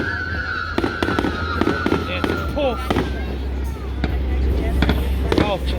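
Fireworks explode at a lakeside island festival in Krakow am See, a rapid series of sharp bangs and crackles over a steady low rumble, with people talking nearby under the blasts.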